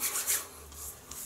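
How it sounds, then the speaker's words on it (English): Hardened shaving cream being scraped with a fingernail, a short soft raspy rub repeated in a few quick strokes, close and quiet with no talking. "So I'm just going to scrape it with my nail."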